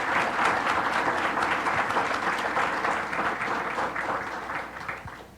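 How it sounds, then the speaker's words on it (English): An audience at an alumni ceremony claps steadily, a dense continuous round of applause holding strong and then tapering slightly toward the end, with no speech over it. "So if we could have a round of applause for all the significant others"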